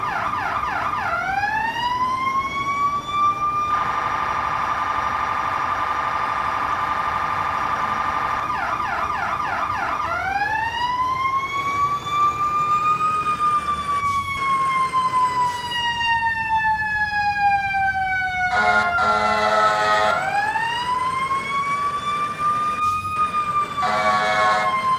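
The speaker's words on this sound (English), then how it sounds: "So this is the preset sirens." Preset fire engine sirens in the video game Emergenyc cycle through loud, continuous patterns: rising wails, long sustained tones, a slow downward sweep and bursts of rapid yelping, all close and filling the whole stretch without talk.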